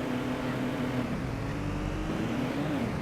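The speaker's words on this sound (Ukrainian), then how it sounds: "ця машина це ланцер." Mitsubishi Lancer engine in the video game Midnight Club 2, a steady low droning hum held at an even level throughout, with no voices over it.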